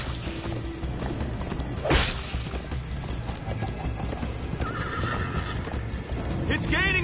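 A horse neighs in the Minecraft Story Mode video game during a chase scene, with a whinny rising near the two-second mark over steady hoof clatter and game music, and characters talking throughout.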